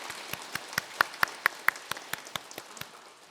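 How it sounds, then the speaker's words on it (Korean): A church congregation at a Sunday worship service claps in a steady, even rhythm, about a dozen crisp claps in a row, loudest in the middle and fading at the end, with no talking. "영광의 박수 올려드리겠습니다"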